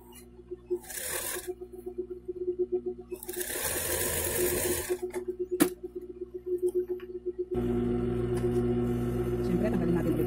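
A sewing machine stitches a double bedsheet with elastic in quick bursts of rapid needle clatter, pausing between runs, then settles into a steady running hum; a voice talks briefly over it.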